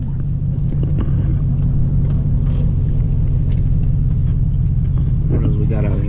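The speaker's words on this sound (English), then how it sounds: "I hear that cam from that little Camaro there" Chevrolet Camaro with an aggressive cam, its engine giving a loud, continuous low rumble with a choppy idle, while people talk nearby over it.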